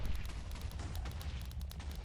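Explosion generator in a Minecraft FTB Oceanblock modpack setup: rapid, repeated booming blasts in a dense, rumbling volley, loud and continuous.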